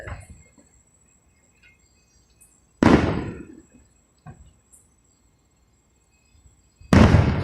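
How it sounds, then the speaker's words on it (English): Fireworks explode in sharp, loud bursts, two big bangs several seconds apart, with smaller pops and crackles between them and long quiet gaps. "Lots of fireworks."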